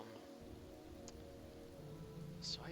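Rain falls in a soft, constant wash, with a couple of faint higher ticks near the end and no voices.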